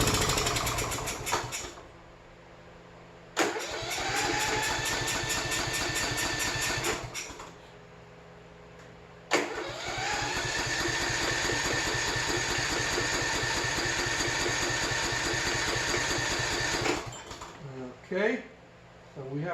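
A small engine on an abandoned 2007 Troy-Bilt runs steadily and loudly close by, cutting out and restarting twice before sputtering and dying near the end, with someone talking over it.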